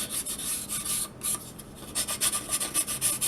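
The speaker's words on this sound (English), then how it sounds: "This balsa wood sands really easy." Sandpaper rubs back and forth across a soft balsa wood edge on a model glider airplane, with close, rhythmic rasping strokes that pause briefly midway before quickening.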